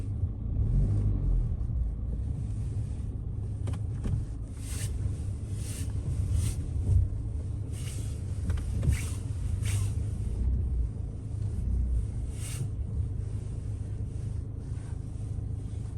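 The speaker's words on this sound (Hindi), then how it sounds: "तो हम गाड़ी की पार्किंग यहाँ लगाएंगे बीच में" Car parking in the grounds of Castell de Montjuïc in Girona, a low steady engine rumble close by for the whole span with some wind noise and no talk.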